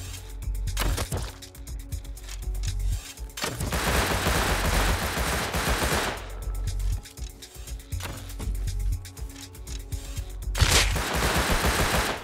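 Gunfire in the console survival game Rust, bursts of rapid shots alternating with short single cracks, loud and close, continuing throughout with brief gaps.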